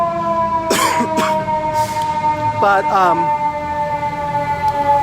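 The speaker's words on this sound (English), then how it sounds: "we've got another siren." An emergency vehicle siren wails at middle distance in a steady sustained tone, and a person speaks briefly and coughs close by over it.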